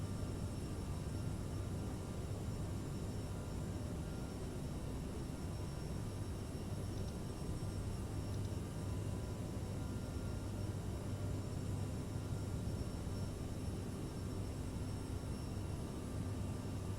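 A CRJ700 jet's engines in a flight simulator, a steady broad roar with a low hum, holding at a constant level throughout with no voices over it.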